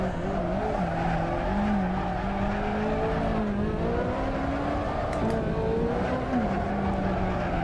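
Racing car engine in a driving sim at Silverstone, a Corvette ZR1 or Ferrari 458: steady loud drone with rising and falling revs through gear changes, faint tyre squeal, no voices.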